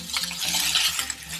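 Finely chopped ginger and garlic fry for sambar, giving a bright, close sizzle with light scraping and stirring against the pan in a short, steady burst.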